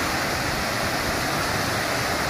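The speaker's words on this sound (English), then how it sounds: "is another waterfall. Another waterfall." Waterfall along the Appalachian Trail in Tennessee, a steady, loud, close roar of rushing water with no other sounds.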